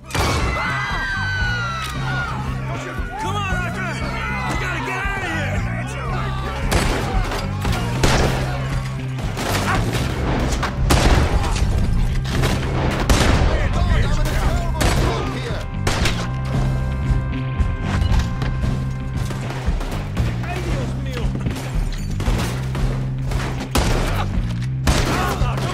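Dense shootout gunfire from Red Dead Redemption 2, with rapid overlapping shots and sharp cracks firing loudly and continuously over an ambient background for the whole stretch.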